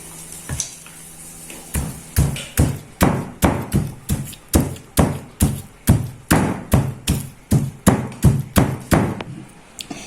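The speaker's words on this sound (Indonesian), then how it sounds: "Dan ini untuk ayamnya saya gepuk." Repeated heavy thuds pound fried chicken in a steady rhythm, about twenty sharp blows close up, with no talking.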